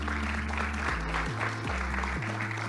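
An audience applauds an award winner at a business prize ceremony, with steady clapping under a loud sustained musical tone that steps between pitches.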